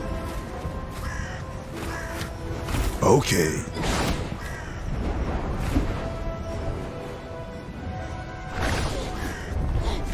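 Loud cawing of a crow-like bird from the animated series Wakfu, season 4, rising in repeated harsh calls over a busy soundtrack, with a person talking and reacting over it.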